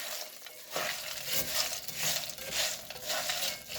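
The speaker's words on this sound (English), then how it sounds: "So we're just going to stir these real quick because we want the butter to be coating all of them pretty well." Rice Chex cereal being stirred through melted butter in a hot pan, a soft sizzling scrape that swells and fades in quick repeated strokes, close and alone with no voices.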